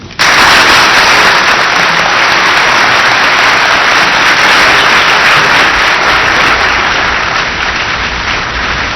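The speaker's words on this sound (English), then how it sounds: "The applause was sustained and vigorous." A large audience at the Camp David treaty signing ceremony gives loud, sustained applause, a dense wash of clapping that stays strong throughout and only slightly eases toward the end.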